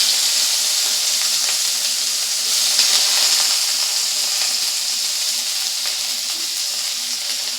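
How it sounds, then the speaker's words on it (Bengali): Sliced onions fry in hot oil with dried red chillies and small topse fish, giving a steady, even sizzle and hiss that carries on throughout with no talking. "পেঁয়াজটাকে এর সঙ্গে একটু ভালো করে ভেজে নেব"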